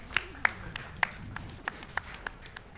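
Sharp single hand claps, about eight of them, spaced unevenly over a few seconds, fairly close and clear above a quiet background with faint low murmuring.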